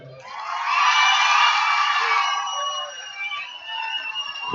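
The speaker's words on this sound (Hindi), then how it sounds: "जब यहाँ पठान भाइयों और बहनों ने ताली बजाई" A crowd at an Independence Day celebration in Kuwait cheers and whoops together, swelling to a loud roar, then easing to a sustained, slightly distant din.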